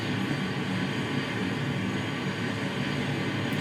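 Heavy airliner engines holding a loud, steady roar on the taxiway before takeoff, a continuous broadband rumble with no talking over it.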